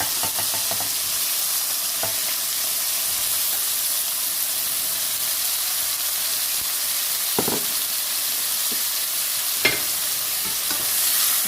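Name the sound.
stir-frying vegetables for cauliflower korma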